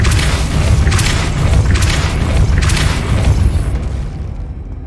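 A Depulso spell is cast in Hogwarts Legacy, producing loud booming, whooshing force blasts that pulse roughly once a second over a dense rumbling bed before fading away.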